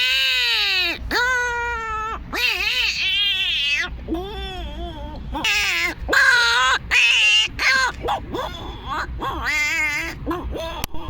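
A man imitates a cat with his voice, giving a loud run of wavering, yowling meows and squalls like a cat in a fight, repeated in bursts with no other talk.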